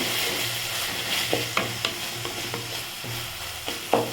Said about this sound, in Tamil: கொஞ்சமாக கருவேப்பிலை சேர்த்துக்கலாம் சேர்த்து நல்லா வதக்கிக்கலாம்